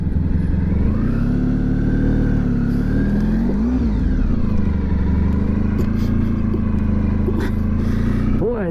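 A Honda ST 1100 motorcycle being ridden, its engine droning steadily and loudly close by, rising and falling in pitch as it accelerates and shifts, with wind noise throughout.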